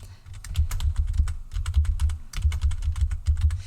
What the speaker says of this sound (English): And yes, I am typing it.